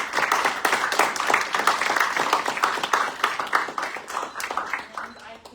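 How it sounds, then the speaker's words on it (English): A crowd at a senate meeting applauds with a burst of dense, rapid clapping that carries on steadily for several seconds, then thins out and fades toward the end. "So let's just all give everyone a round of applause."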